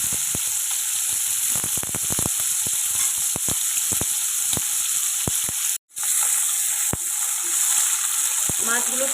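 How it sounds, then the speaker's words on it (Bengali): Marinated prawns fry in hot oil in a wok, giving a loud, steady sizzle full of sharp crackling pops close by, with a brief break near the middle. "চিংড়ি মাছ বেশি ভাজা দরকার পড়ে না, একটুতেই ভাজা হয়ে যায়।"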